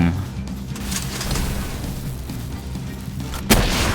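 Gunfire in Palworld during a fight with a tower boss: a few sharp, scattered shots, the loudest near the end, over game background noise with someone talking.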